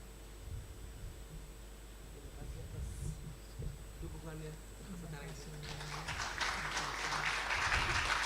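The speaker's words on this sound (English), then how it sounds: "please give applause again to Prof." An indoor seminar audience breaks into applause that builds gradually over a low hum and a muffled voice, swelling into a broad clapping wash toward the end.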